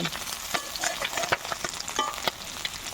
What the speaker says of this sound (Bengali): আমার মাছগুলো ভাজা হয়ে গেছে প্রায় একটু এপিট করে নামিয়ে নেব